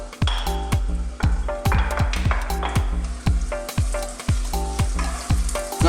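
Chopped onions fry in olive oil in a pan over high heat, giving a loud, steady sizzle broken by frequent taps and clinks of a utensil against the pan.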